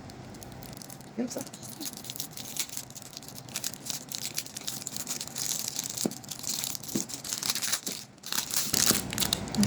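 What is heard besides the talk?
unwrapping and opening a Dubai chocolate bar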